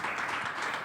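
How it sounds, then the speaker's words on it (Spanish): Church congregation applause, a dense wash of many hands clapping steadily for a brief moment, fairly loud and close. "Denle un aplauso al Señor Jesús"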